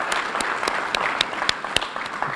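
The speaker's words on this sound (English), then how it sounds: "you can clap." Applause from family and friends at a fire department recruit graduation ceremony, a dense, sustained patter of many hands with a few sharp, close claps standing out.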